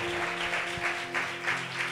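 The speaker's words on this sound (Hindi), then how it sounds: "जोरदार तालियां बजाकर" A church congregation at a revival gathering in Mumbai claps in a steady rhythmic pattern, moderately loud with a sustained tone underneath.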